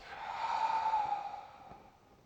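A single slow, deep exhale during a vinyasa yoga session, a soft, close, breathy sigh that swells and then fades away.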